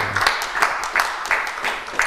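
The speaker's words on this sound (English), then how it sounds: "let's give Dr. Keltz a round of applause" Lecture audience applauding at the end of a talk, a sparse, uneven clatter of hand claps that comes in several bursts, moderately close and without voices.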